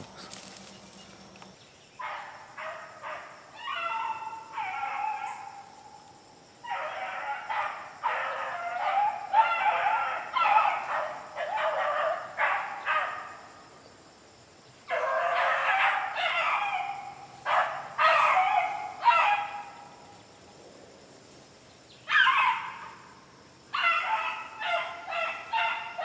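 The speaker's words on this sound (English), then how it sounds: "Three dogs." Three dogs at a kennel barking in repeated bursts of short, sharp barks, close and loud, with brief pauses between volleys over a steady background hum.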